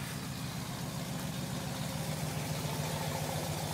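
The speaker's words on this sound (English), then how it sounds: "Taking the Bronco for a ride." Old blue Ford Bronco idling steadily up close, a low rhythmic engine rumble with even pulsing that holds constant throughout, no voices over it.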